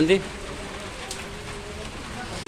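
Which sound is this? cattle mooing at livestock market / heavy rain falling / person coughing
heavy rain falling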